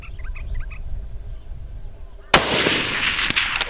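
A single sharp, loud gunshot from a rifle during a water buffalo hunt in Australia rings out after quiet outdoor ambience with faint bird calls, followed by a lingering echo and rumble.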